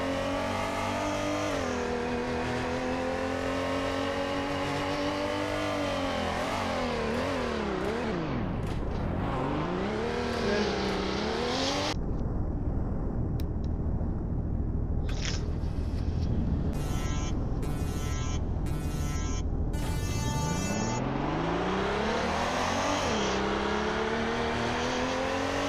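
Race cars in a video game rev hard throughout, engines climbing and falling in pitch as they accelerate and shift, loud and continuous with no talk.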